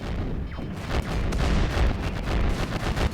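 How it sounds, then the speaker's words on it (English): Heavy cannon fire in the Rimworld video game, booming in rapid overlapping bursts over a continuous rumble of gunfire, loud and dense throughout. "And then the big cannons can start hitting them."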